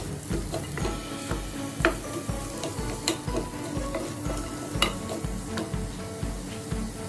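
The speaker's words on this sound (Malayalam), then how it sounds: "2 സബോള ഇട്ട് കൊടുക്കാം. നല്ലോണം വഴന്ന് കിട്ടുമ്പോൾ വരെ നല്ലോണം ഇളക്കിയെടുക്കാം." Two medium sliced onions sautéing in a pan for a homestyle mutton curry, stirred with a steady, repeated scraping rhythm over a continuous soft sizzle, close and fairly loud with no talking.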